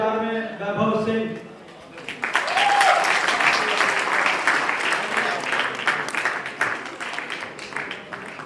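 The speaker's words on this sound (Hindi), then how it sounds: "तालियों की गड़गड़ाहट कलाकारों के लिए बहुत कम है।" Applause for theatre actors from an audience at a national drama festival, a dense steady clapping that follows a brief spoken announcement and holds loud and even to the end.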